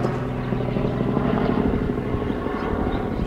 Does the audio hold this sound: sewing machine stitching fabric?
no